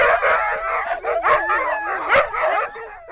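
Hungry sled dogs howl and yip together, a chorus of wavering, close howls with sharp yelps and whimpers mixed in, rising and falling in uneven bursts.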